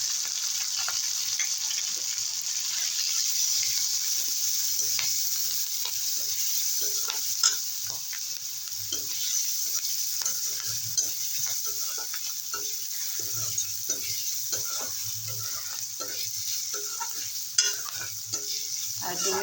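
Chopped green chilies fry with salt and turmeric in a pan, a steady close sizzle broken by a continuous run of soft scraping stirs, with no voices.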